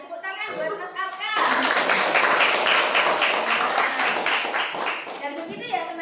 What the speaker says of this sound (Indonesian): tepuk tangan buat Mas Arka